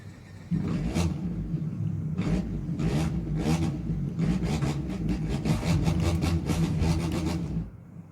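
A car engine revs in The Crew 2 on PlayStation 5, with a low, steady rumble and repeated sharp bursts of throttle that grow busier toward the end before fading out.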